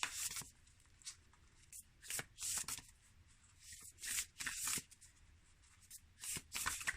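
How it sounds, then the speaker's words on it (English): A hard-to-shuffle deck of oracle cards is shuffled several times close by, with quick riffling bursts separated by brief pauses. "These cards are really not easy to shuffle."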